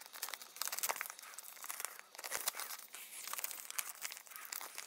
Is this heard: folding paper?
yes